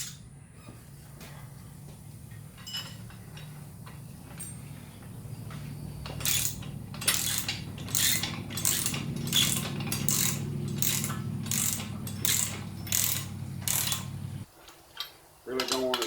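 Ratchet tightening a lock nut on a BXpanded backhoe thumb fitted to a Massey GC1710 sub-compact tractor, a rapid run of sharp metallic clicks repeating for several seconds over a low engine idle, close by.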